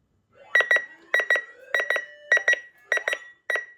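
A Uniden WX100 weather radio sounds its alarm alert test tone: loud, close electronic beeps in quick pairs, repeating steadily about every half second with clean silence around them.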